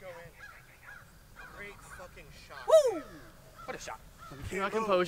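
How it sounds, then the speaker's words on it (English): Crow-like caws ring out on a golf course, one loud, sweeping call near the middle and more calls near the end, heard over steady chatter from golfers nearby. "Yeah, we hear the bird chirping."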